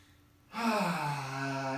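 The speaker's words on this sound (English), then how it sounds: "You exhale out through the mouth." A long, full exhale out through the mouth during a breathing exercise on the floor, starting after a brief quiet and continuing as one steady, soft breath.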